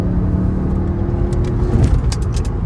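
A tuned twin-turbo V8 BMW pulls hard under load, its deep engine drone steady and close, with faint clicks and rattles inside the cabin.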